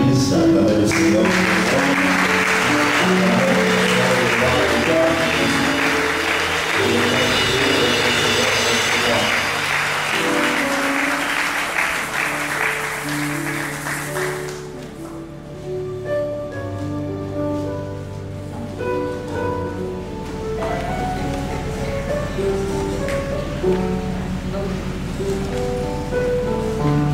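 A church congregation applauds to acclaim the Lord with a thick wash of clapping for roughly fifteen seconds, which then fades as sustained tonal music carries on.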